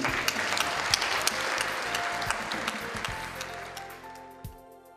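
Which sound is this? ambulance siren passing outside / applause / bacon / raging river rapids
applause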